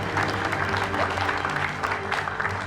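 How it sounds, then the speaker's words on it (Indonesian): Studio audience applauding a guest on an Indonesian talk show, dense sustained clapping from a crowd, loud and even throughout with no pauses. "Tepuk tangan boleh buat narasumber saya."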